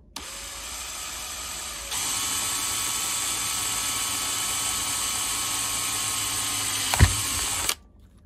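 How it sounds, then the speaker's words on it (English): A small twist drill whines steadily at high pitch while starting holes for a Victron Multiplus II solar indicator panel, stepping up in intensity partway through, with a brief thump near the end before it stops. "I'll first use this small twist drill to start the holes, then move on to the step drill"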